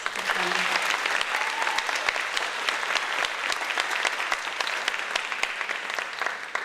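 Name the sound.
applause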